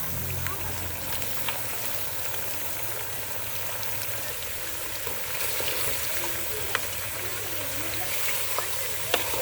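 Goat mutton curry cooks in a pan with a steady, close hiss and sizzle that runs evenly throughout, faint scrapes of stirring mixed in.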